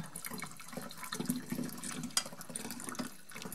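Homemade wild violet syrup is poured straight into a scalded one-litre glass bottle, a steady close liquid trickle and gurgle with a faint clink of glass, no talking.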